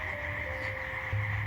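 Toads croaking in a forest near a swamp, a steady low pulsing chorus with a brief louder burst near the end, set against a constant high insect-like hum.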